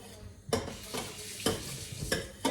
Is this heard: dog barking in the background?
no